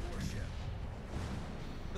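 A warship's gun salvo booms in a naval battle game, a deep rumbling roar filling the short stretch at moderate loudness with no talk over it.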